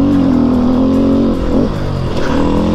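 Loud, close engine of a new motocross bike revving, with harmonic pitch rising and dropping through throttle blips and a brief dip before climbing again.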